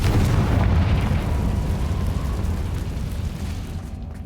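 A Confringo blasting spell explodes in Hogwarts Legacy as a loud, deep, rumbling boom that fills the scene and slowly rolls away over several seconds, with no voices.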